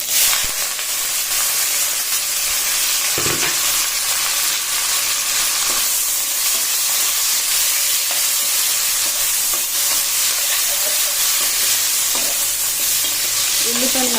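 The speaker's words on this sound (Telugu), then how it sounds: "ఫస్ట్ అయితే ఆయిల్ వేడెక్కిన తర్వాత కొద్దిగా ఆవాలు వేసుకోవాలి" Mustard seeds crackling in hot oil in a pan, a dense continuous sizzle and hiss, loud and close, with occasional pops and faint stirring scrapes, no talk.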